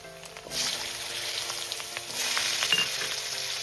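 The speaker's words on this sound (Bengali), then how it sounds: "আলুটা আমি খুবই হালকা ভাজবো" Turmeric-coated potato pieces fry lightly in oil, a steady close sizzle that swells after a moment and carries on with soft stirring clicks, no voices.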